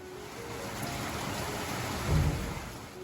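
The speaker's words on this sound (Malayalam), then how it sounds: "പുറത്ത് നല്ല മഴയാണ് ഇടിയുണ്ട്" Steady heavy rain hisses outside without pause, with a low rumble of thunder swelling briefly near the end.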